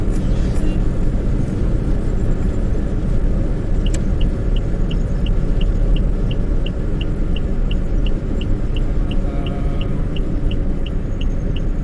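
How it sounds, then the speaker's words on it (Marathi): A car pulling into a Bharat Petroleum fuel station on the Bangalore to Mumbai drive gives a steady, loud broadband road and engine rumble throughout, with a faint, regular beeping ticking along in the middle. "भारतच्या पंपात आपण गाडी घालतोय"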